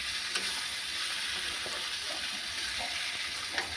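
Potatoes are stirred into a Bengali bata fish curry in a hot pan, a soft steady sizzle with faint scraping and stirring taps, fairly quiet and close.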